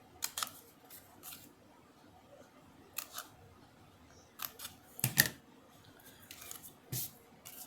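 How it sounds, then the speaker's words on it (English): Scissors snip small paper tabs close by, a scattering of quiet, sharp cuts with gaps between them. "then we're going to cut these little tabs"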